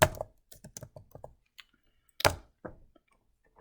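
Fingers typing on a computer keyboard, a close run of sharp irregular key clicks followed by a brief pause and a few more taps.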